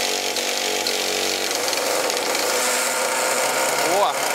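A Traxxas Slash Nitro 2WD radio-controlled car's small nitro engine running just after starting, a steady high-pitched buzzing drone close by, with a voice briefly speaking near the end.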